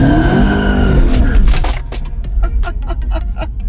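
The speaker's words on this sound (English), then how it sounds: "take it for its first drive and do its first burnout" A 640-horsepower Cadillac CTS-V doing a burnout gives a loud, close engine roar with squealing tires. It breaks into rapid popping bursts toward the end.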